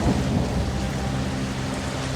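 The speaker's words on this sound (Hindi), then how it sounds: "एक रात गांव में भयंकर तूफान आया। आसमान में बिजली चमकने लगी, मूसलाधार बारिश होने लगी।" Heavy thunderstorm with torrential rain, a dense, loud, continuous roar of downpour over a low rumbling undertone, with no voices.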